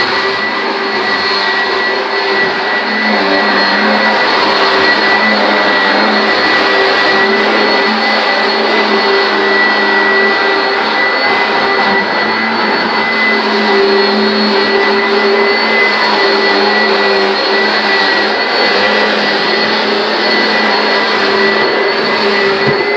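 Vacuum cleaner running on a floor, a loud, steady whine and rush held close up without pause, with no voices.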